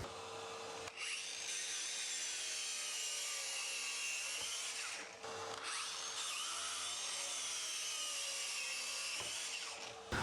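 A hand saw cuts through wood offcuts in a workshop, a close, loud, steady back-and-forth rasp with a couple of brief pauses between runs of strokes.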